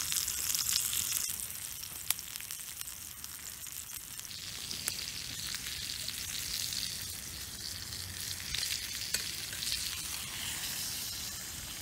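Garlic fries in butter in a pan at an outdoor bushcraft cookout, a continuous close crackling sizzle with occasional sharp pops throughout.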